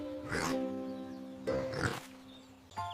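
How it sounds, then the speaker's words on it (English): A pig gives two short, soft oinking grunts about a second apart, with a faint tuneful backing underneath and a brief extra sound at the end. "The pig says oink,"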